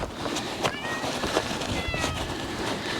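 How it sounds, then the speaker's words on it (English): A stray cat meows several times in short, rising calls, fairly close, over a steady outdoor background with no talking. "For all you who wonder why the cat is meowing, I don't know."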